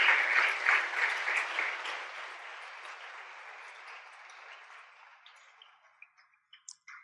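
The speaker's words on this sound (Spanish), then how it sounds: "¿Cuántos podemos darle un aplauso a nuestro Dios?" A church congregation claps together in steady applause that thins and fades out over several seconds, ending in a few scattered, isolated claps.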